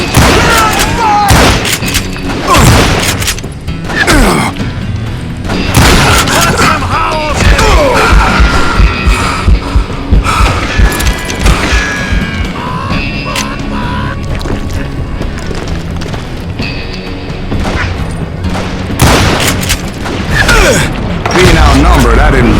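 Gunfire in the Call of Juarez video game: loud, dense bursts of shots and booms packed tightly together over a long stretch, mixed with yells, mechanical clatter and shouted game dialogue.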